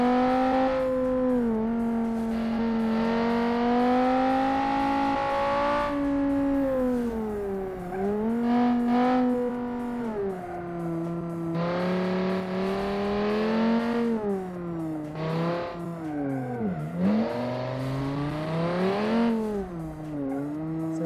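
A fast car is driven hard around a test lap, with the engine pitch rising and falling sharply through gear changes and corners, and a loud, continuous revving whine.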